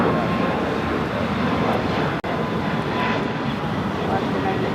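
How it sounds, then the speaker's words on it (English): A Breeze Airways Airbus A220-300 taking off, a steady, moderately loud engine roar that continues across the whole span apart from one sudden brief dropout near the middle. "Breeze Airways, Moxie 825, taking off to Akron on the A220-300."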